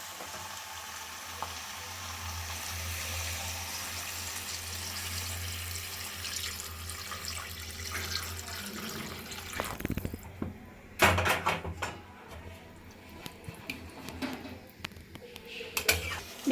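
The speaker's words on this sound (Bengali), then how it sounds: "এবার আমি দিয়ে দেবো জল।" Water poured into a hot pan of fried fish and bottle gourd, a sudden splash and sizzle breaking over steady frying, followed by bubbling and clatter.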